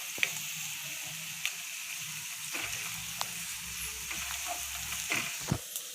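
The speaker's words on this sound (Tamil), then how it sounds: "2 பச்சை மிளகாய் கிள்ளி போட்டுருங்க. அதில் அதையும் சேர்த்து நல்லா வதக்கிக்கோங்க." Onions and green chilies sauté in a skillet, sizzling steadily and fairly quietly while a spatula scrapes and clicks against the pan in irregular strokes.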